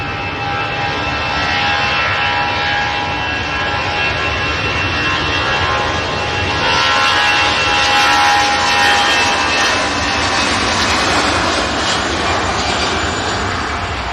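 An Airbus A380 airliner departing Manchester Airport, a loud continuous jet engine roar with a steady whine, swelling slightly midway as it powers along the runway, alone without voices.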